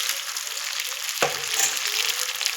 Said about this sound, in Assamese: মাছটো মই হাফ ফ্ৰাই কৰি ল'ম